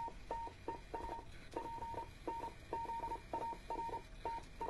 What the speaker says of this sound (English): Let's see what Morse code sounds like. We'll turn on this machine. This is a 100-year-old machine.